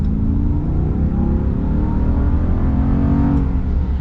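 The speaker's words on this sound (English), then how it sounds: "I mean, look at this, for example, the acceleration." A 2025 Ram HD pickup truck with a new Cummins engine and new transmission accelerating: a loud, close, continuous engine roar that climbs steadily in pitch, with no talk.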